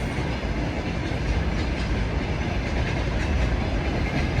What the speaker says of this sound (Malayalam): അതാണ് train, Kyrgyzstan train in front of our eyes